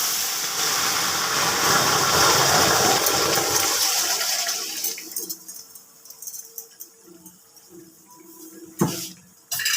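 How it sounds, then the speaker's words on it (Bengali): Boiled cucumbers tipped into a hot pan of oil with mustard seeds for a Bengali sukto, setting off a loud, close hiss and sizzle that gradually calms over several seconds, with a clank of the pan or utensil near the end. "এই যে আগে থেকে বয়েল করে রাখা শশাগুলো এবার দিয়ে দিই।"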